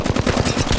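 Rapid automatic gunfire from a weapon in Apex Legends Mobile, with a dense run of close, loud shots filling the short burst and no pauses.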